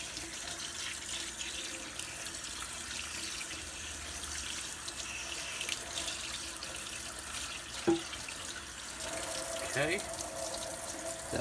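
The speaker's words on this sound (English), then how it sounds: "I'll rinse it one more time. Make sure there's no soap on it." Tap water runs steadily while soap is rinsed off a KE102 engine cylinder at a sink, a continuous splashing hiss with a couple of brief clunks as the part is handled; a voice speaks briefly.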